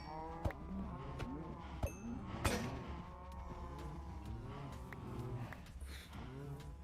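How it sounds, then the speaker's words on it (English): Several Minecraft cows moo over and over in overlapping, drawn-out calls, with scattered clicks and hits of in-game action mixed in at moderate loudness. "my axe just broke, so I'm trying to kill all these cows"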